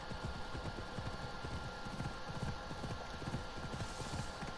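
Horse hooves clip-clop steadily across the ground in Assassin's Creed Odyssey, a quick regular rhythm of close, fairly quiet strikes with no talk over them.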